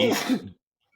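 A single short sneeze bursts out at close range during a sports betting podcast discussion, loud for about half a second and then cut off into silence.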